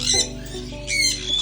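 A sun conure squawks in two loud, harsh bursts near the start and end while being handled, with a steady low hum beneath.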